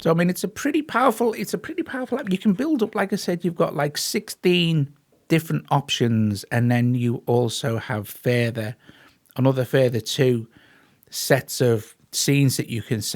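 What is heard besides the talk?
No everyday noises stand out.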